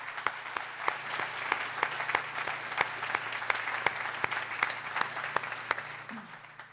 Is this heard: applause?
yes